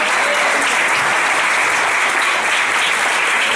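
A church congregation applauding, dense, loud, steady clapping filling the room from start to end with no gaps.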